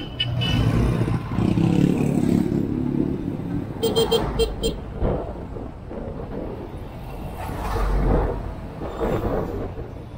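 Busy town-centre traffic heard from a Honda Beat motorcycle, with the engine rumbling, passing vehicles, brief horn toots and wind roar rising and falling.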